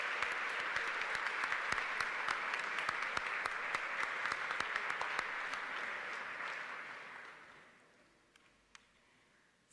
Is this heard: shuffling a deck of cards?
no